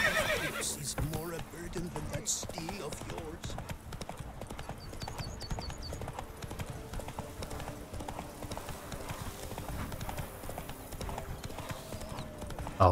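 Hooves clip-clop steadily and a horse whinnies in the video game The Witcher 3, the gait sounding close and clear over ambient game music, while a person talks now and then.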